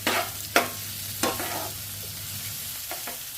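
A chicken stew base with green chillies, salt and ground black pepper is stirred in a pan, a close, even sizzle punctuated by a few sharp spatula scrapes and knocks, no voices over it.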